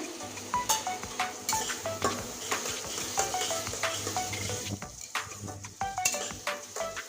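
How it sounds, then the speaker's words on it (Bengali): Spice paste (masala) for ghugni being stir-fried in a pan, with steady sizzling and frying hiss broken by repeated sharp clinks and scrapes of a spoon against the pan, close and alone. "যতক্ষণ মশলা থেকে তেল না ছাড়বে অতক্ষণ আমি কষতে থাকবো মশলাটা সুন্দরভাবে কষিয়ে নেব"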